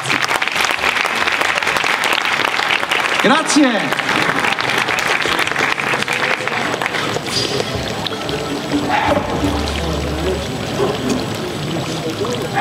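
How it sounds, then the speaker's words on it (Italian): Warm, sustained applause for a Django-style jazz manouche string orchestra and quintet of soloists, filling the room for several seconds with a brief spoken thanks heard over it. "Vi prego, un grande applauso per loro."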